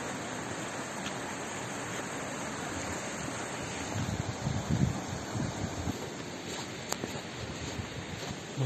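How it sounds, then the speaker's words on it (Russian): A small mountain stream flows through snowy spruce forest in the mountains of Kyrgyzstan, feeding a river with waterfalls, giving a steady close broadband rush with wind noise and no talk. "Вот ручеек такой"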